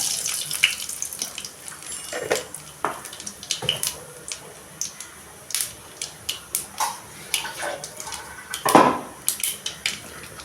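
Mustard seeds spluttering in hot oil for a Tamil curry leaf kuzhambu, a run of sharp irregular pops and crackles close by, scattered unevenly with one louder burst near the end, with no talking.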